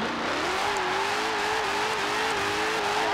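A stock 2018 Dodge Challenger SRT Demon engine in Forza Horizon 4 pulls hard in third gear, a loud continuous growl rising steadily in pitch as the car accelerates, with no pause or gear change.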